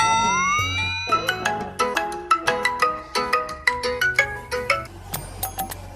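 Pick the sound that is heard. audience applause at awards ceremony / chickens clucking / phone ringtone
phone ringtone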